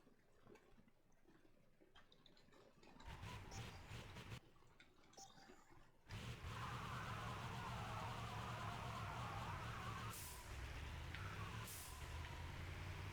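A bus crash in the racing game Burnout 3's Crash Mode: quiet engine noise gives way to a burst of metallic impact, then a loud, sustained roar of crunching and scraping wreckage with a sharp hit near the end.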